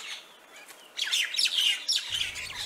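A common myna gives a quick run of varied chirps, whistles and harsh calls, close and fairly loud in a quiet outdoor setting.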